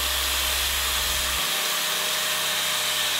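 A spinning cut-brush wheel on a grinder shines up metal in a blacksmith's shop. It gives an even, hissing whir over a low motor hum that cuts out early on, while the brushing hiss continues alone.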